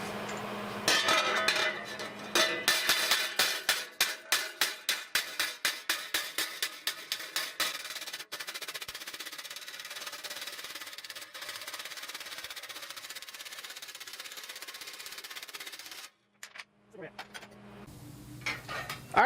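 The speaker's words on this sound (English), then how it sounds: "we're gonna hammer and dolly and see how flat we can get it" Hammer and dolly strike thin sheet metal being flattened in a welding shop, a quick run of sharp metallic clinks in a steady rhythm that thins into scattered taps and then stops.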